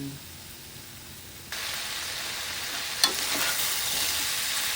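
Chicken curry with fish sauce and cumin leaves bubbling in a pot on the stove, a steady frying-like sizzle that grows louder partway through, with a single light clink of utensil against the pot.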